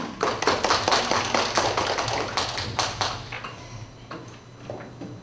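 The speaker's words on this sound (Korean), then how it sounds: "박수로 맞이해 주세요" A small audience claps to welcome a lecturer at an art museum talk, with scattered, uneven claps that start briskly and taper off over a few seconds, close and fairly light.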